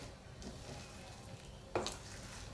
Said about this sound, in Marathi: आता हे मी परतून घेते व्यवस्थित